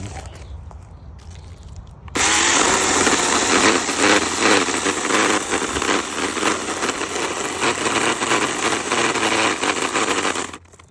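A Ryobi 18V cordless 8-inch pruning saw, model R18CHS20, cutting into a branch one-handed: a sudden loud high-pitched chain whine starts after a quiet moment, buzzing and straining steadily before cutting off abruptly at the end.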